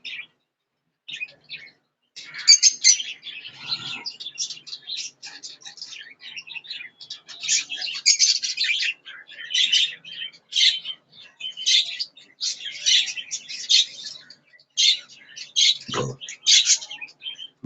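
Budgerigars in a breeding cage chirp and chatter almost continuously, in rapid high twittering bursts with short pauses, close and fairly loud.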